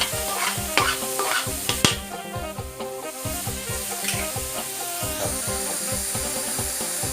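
Chinese kale is stir-fried in a hot pan, with continuous sizzling under repeated rhythmic scrapes and clanks of the utensil against the pan, close and fairly loud.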